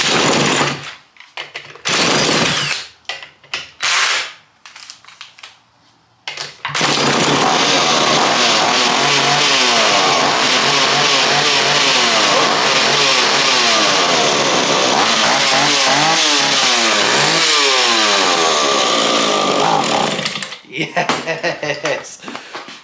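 Old bargain chainsaw engine fires on half choke after some start attempts, then runs loud and raspy, revving up and down for about fourteen seconds before cutting out, with a person talking before and after.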